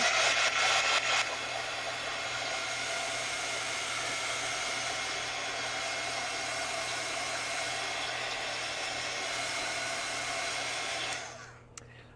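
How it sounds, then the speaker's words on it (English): A handheld heat gun blowing hot air for a crafting project makes a steady, loud, close whooshing roar for about eleven seconds before it switches off and winds down. "I am going to do the annoying little heat gun thing here"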